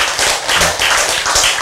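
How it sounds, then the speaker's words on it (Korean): A church congregation clapping their hands in rhythm, loud and close, with repeated bursts of claps sounding in a lively, uneven beat. "여러분이 이렇게 박수치고"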